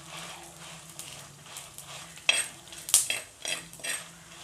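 Two tablespoons of coriander seeds dry-roasting over low heat in a pan for coconut chutney powder, stirred with a spoon that gives light scraping and clinks, with a few sharper metallic taps near the end and no talking.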